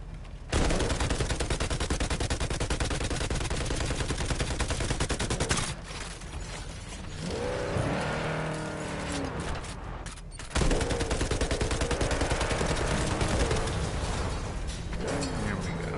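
Sustained automatic gunfire in Cyberpunk 2077, loud, dense bursts running for several seconds, a brief pause with mechanical whirring, then another long volley, no talk over it.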